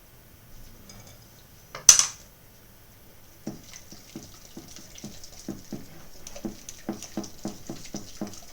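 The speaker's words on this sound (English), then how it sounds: "I think I can go back to my whisk." A whisk beats chocolate cake batter in a bowl with quick, light, rhythmic taps that grow steadier. A single sharper clatter comes just before, and the taps stay fairly quiet and close.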